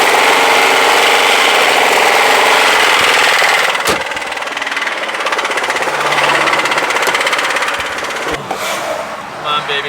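Harsh, rapid clattering rattle from a 1990s Toyota Camry engine running with no oil, loud and close, with sharp knocks and thumps around it.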